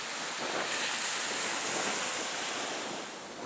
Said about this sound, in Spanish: el océano de aguas transparentes empieza a agitarse